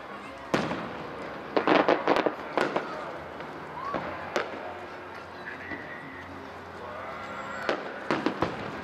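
Fourth of July fireworks show in Sparks, Nevada, with repeated sharp bangs and booming bursts at irregular intervals, some loud and close, others more distant, amid crowd noise and a few honking or quacking calls.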